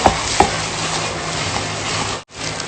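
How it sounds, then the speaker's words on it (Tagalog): Homemade siomai filling being mixed by hand: a continuous close, wet, squishing and stirring texture with a couple of soft knocks at the start, steady throughout and with no talk. "Yan, mix na natin ito."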